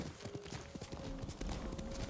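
Rhythmic clip-clop of horse hooves in Ghost of Tsushima at a steady trot, close and continuous, with a low tonal hum underneath.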